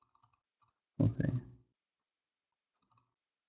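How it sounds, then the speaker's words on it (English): Sharp clicks from a computer mouse as links are clicked on a page, a few light taps at the start, a pause, then a cluster of quick clicks near the end, with a brief burst of voice in between. "Every time I'm clicking the link"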